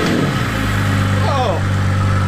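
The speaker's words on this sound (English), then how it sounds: "when you turn the accessories on, it's gonna prime the fuel pump" An upgraded Fuel-It stage 2 bucketless low-pressure fuel pump in a BMW 335i primes with the accessories switched on, giving a steady, fairly loud electric hum with a faint whirring chirp partway through.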